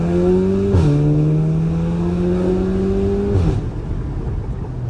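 Straight-piped Audi S3 engine droning loud and close from inside the car, its exhaust note holding steady then dropping sharply twice as the revs fall between gears, with a rough raspy edge.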